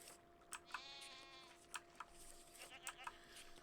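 A drawn-out goat bleat from a video game is followed by a few shorter bleats, soft and nearby, over a faint steady hum with some light clicks.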